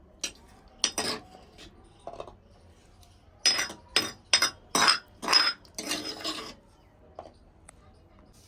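Pounded spices for black chickpeas being scraped and tipped onto a plate, a series of sharp metallic and wooden scrapes and clinks, clustered in a quick burst of six or so strokes with quieter taps before and after.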